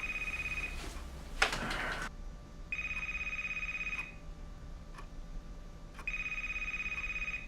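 A telephone rings indoors in repeated electronic bursts, each lasting just over a second with short silences between, loud and close. A brief clatter is heard near the start, and no one speaks.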